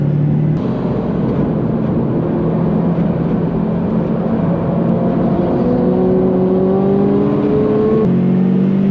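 A Subaru's engine drones steadily through a corner, its pitch gradually climbing under load with a brief gear change near the end, loud and close without any talk.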